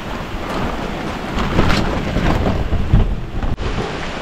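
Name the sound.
heavy rain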